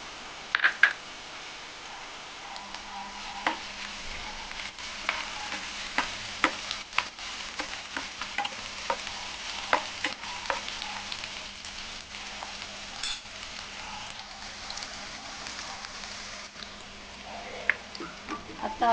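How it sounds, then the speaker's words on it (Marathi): Ginger and garlic frying in a pan for Vidarbha-style pavta bhaji give off a faint, steady sizzle with scattered small crackles and pops, heard up close with no one talking. "याच्यामध्ये आता आपण अद्रक आणि लसूण टाकणार आहोत।"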